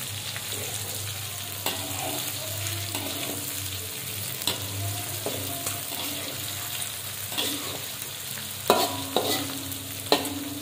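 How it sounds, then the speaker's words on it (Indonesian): Sambal with chicken gizzards, potato, tempeh and tofu sautés in a pan with a low, continuous sizzle, punctuated by intermittent scrapes and clanks of stirring, a few sharper knocks near the end. "ini kenapa kita tumis agak lama, agar dianya matang ya teman-teman"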